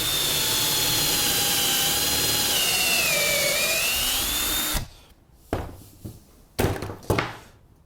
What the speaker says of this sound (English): now I'm going to proceed to drill out this leg